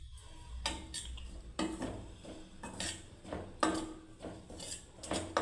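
A utensil scrapes and clinks against a pan while besan halwa fries in ghee, giving a string of uneven metallic knocks and scrapes. The stirring sounds near and fairly loud, with no talking.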